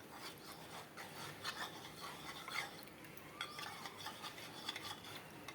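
A spoon scraping and swirling cornflour into water in a small bowl, with steady soft rasping strokes close by, no voices.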